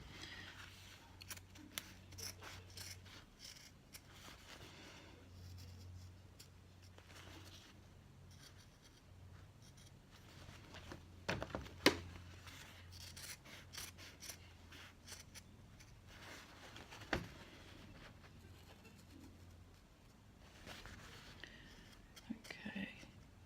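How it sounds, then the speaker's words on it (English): Scissors snip through bag lining fabric to open a zipped pocket, a series of quiet, close crisp cuts spread over a soft background, with faint quiet speech at times. "I want to cut through everything, like right the way through to this side."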